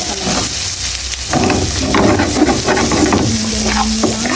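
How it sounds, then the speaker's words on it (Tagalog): Green and red chili peppers sizzle and get stirred in a frying pan, a steady close crackle with scraping strokes and some faint background tones. "Haluin mo para lumasa lang."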